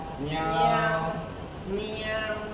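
Two drawn-out meows imitated by a human voice, rising and falling, near and fairly quiet.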